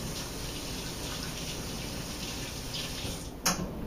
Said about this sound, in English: Now I'm going to rinse my hands quickly.